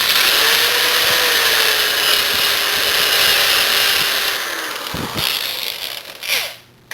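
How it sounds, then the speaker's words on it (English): A power drill whines steadily at close range, its pitch wavering as it is worked in and out of a hole for cabinet hardware, then slows and stops near the end. "Just going to work this drill in and out a few times."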